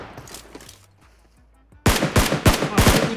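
Gunfire in PUBG Mobile: after a quiet stretch, a rapid burst of five or six loud, sharp shots rings out in quick succession.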